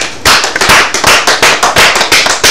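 Loud, rhythmic clapping in a steady beat, sharp claps repeating about three times a second, like a small group clapping in unison.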